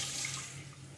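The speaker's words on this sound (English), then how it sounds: "Strain the liquid." Water pours and splashes steadily as rinsed rice is strained, a continuous close rushing wash lasting about a second with no talk.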